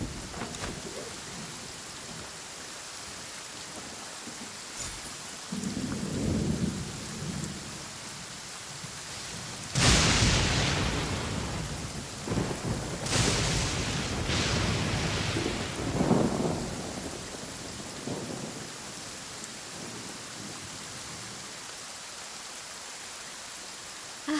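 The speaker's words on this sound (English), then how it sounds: "It's raining again." Steady rain hisses in Genshin Impact while several sharp thunderclaps crack and roll, the loudest bursts arriving in the middle stretch before fading back to soft rainfall.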